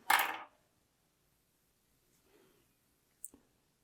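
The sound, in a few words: cutting green rod-wrapping thread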